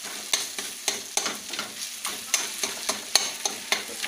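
Already fried masala and onions being stirred in a pan for a Bihari-style stuffed bitter gourd dish, a low sizzle broken by regular spoon scrapes and clinks against the pan, about a dozen over four seconds.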